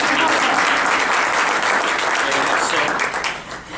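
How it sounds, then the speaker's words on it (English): A room full of people applauds Ms. Peterson at a grant student presentation, a thick, continuous wash of clapping that holds steady and then starts to thin out toward the end. "Can I give a round of applause?"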